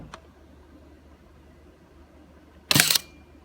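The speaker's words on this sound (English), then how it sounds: "you could hear probably that the focal plane shutter fired" A single sharp mechanical snap of a focal plane shutter firing on a Rolleiflex SL66 camera, close and brief, after a faint click and quiet room noise.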